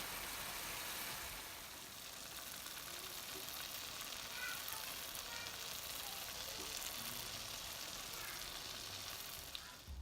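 Egg bhuna curry sizzling in oil as it is stirred, a constant soft crackling hiss across the whole stretch with a few faint scrapes, fairly quiet and without talk.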